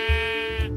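A single sheep bleats in the block-building video game Minecraft, a short, loud, wavering bleat heard close and alone.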